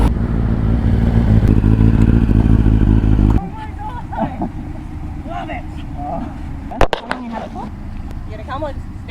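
A loud Kawasaki ZX-9R sport motorcycle engine idles with a deep, rumbling throb, then drops away to quieter street noise with faint voices and clatter in the background.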